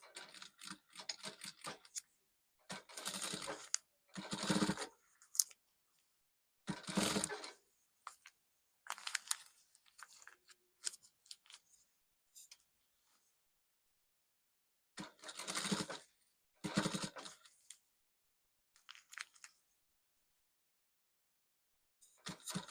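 A sewing machine stitches fabric for a princess-dart bustier in short, separate bursts of rapid whirring, with quiet pauses between runs.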